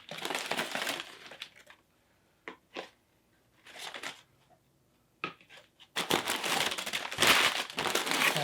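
Packing material crinkles and crushes in bursts as items are pulled from a mailed gift box of arthropod supplies with a heat pack, with short pauses and a dense, loud rustle toward the end.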